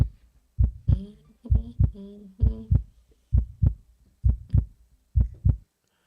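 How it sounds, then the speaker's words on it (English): A heartbeat sound effect plays on a live podcast broadcast. It is a loud, close lub-dub thumping repeated about eight times at an even slow pace, with a faint hum riding on the first few beats. "I'm going to give a heartbeat for her."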